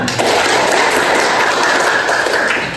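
A classroom audience applauds steadily for a few seconds, a dense, continuous patter of many hands clapping close by with no break.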